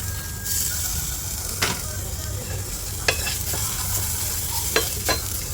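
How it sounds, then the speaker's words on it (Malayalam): Coriander, dried chillies and grated coconut roast in a hot pan for a jackfruit curry, a soft steady sizzle broken by several sharp scraping stirs of a spatula, close by and with no talking. "ഇനി നമുക്ക് കുറച്ച് മല്ലിയും മുളകും തേങ്ങയും കൂടി വറുത്തിടണം."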